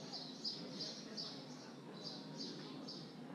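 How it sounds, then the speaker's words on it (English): Quiet, repetitive recorded bird chirps play through speakers in an IKEA store over a dull indoor background hum. "they're pumping in really loud fake noise of birds"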